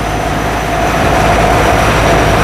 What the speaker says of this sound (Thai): เครื่องยนต์นี่ไม่มีตกครับแรงดีมากครับ